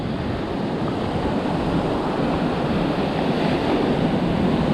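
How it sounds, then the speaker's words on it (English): Ocean surf on a sandy beach washes and recedes in a steady, loud, continuous roar with wind noise across the microphone, and no voices. "watch as this water recedes."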